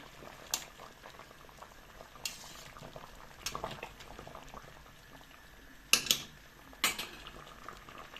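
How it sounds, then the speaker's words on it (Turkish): A pot of walnut jam bubbles and simmers steadily at low volume, with a few sharp clinks of utensils against metal scattered through. "güzelce kaynıyor"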